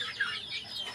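Native free-range chickens of mixed breed, some black, clucking softly in a small backyard area, a short burst of close, fluttering hen chatter with no voices over it.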